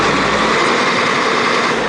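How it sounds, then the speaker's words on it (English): Diesel engine of a 1998 Ford service truck with an IMT Dominator body idles steadily at close range, a loud continuous rumbling hum with no talking. "When you hit the air compressor, it automatically bumps up the idle on the truck."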